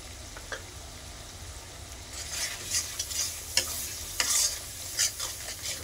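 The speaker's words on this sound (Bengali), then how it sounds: "মশলাটাকে ভালো করে ভেজে নেব।" Spices with salt, turmeric and chili powder fry in a pan, a soft sizzle under repeated stirring scrapes and taps that grow busier partway through, fairly quiet and close.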